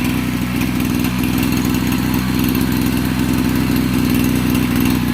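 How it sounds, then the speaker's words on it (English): Engine of a 30-liter motorized sprayer on a goat farm in Nigeria, running loud and close with a steady buzzing drone and a fast regular pulse throughout, no talk. "This sprayer is 30-liter sprayer."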